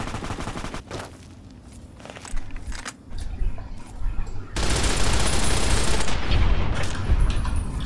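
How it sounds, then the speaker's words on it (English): Gunfire from super mutants in the Fallout New Vegas video game, scattered shots early then a dense, loud rattling burst of automatic fire for the last few seconds. "I think that super mutants are firing."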